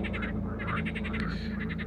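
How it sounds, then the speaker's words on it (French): Frogs croak in surrounding streams on a very hot day, a dense chorus of rapid, rhythmic calls pulsing over a steady low background hum, moderately close and continuous throughout. "Vous entendez des grenouilles coasser dans les cours d'eau environnants."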